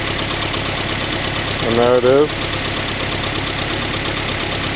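A 1986 Toyota MR2's stock-exhaust 96-cubic-inch, 112-horsepower four-cylinder idles in a steady, even drone, with someone briefly speaking over it midway.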